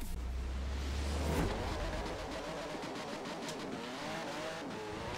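Race car engines in a Forza Horizon 4 drag race: one loud, steady engine drone with a rising rev near the start, then a sustained high whine as the car accelerates, with no talk over it.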